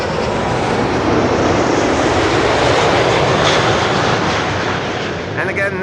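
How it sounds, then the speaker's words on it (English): A KLM Boeing 777-200 arriving at Schiphol produces a loud, continuous jet roar very close by, holding steady before easing slightly near the end. "This is KLM Flight 678, arriving from Calgary."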